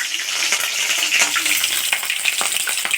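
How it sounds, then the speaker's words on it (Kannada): Green chillies splutter in hot oil in a pan: rapid crackling pops and bursts over a bright, continuous sizzle, close and loud. "ಸ್ವಲ್ಪ ಸಿಡಿಯುತ್ತೆ ಹಸಿಮೆಣಸಿನ್ಕಾಯಿ ಹಾಕಿದ ತಕ್ಷಣ"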